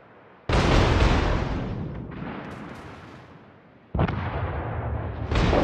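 World of Warships naval artillery: three loud, heavy gun salvos, each a sharp booming burst followed by a long rumbling decay, close and dominant with no talking.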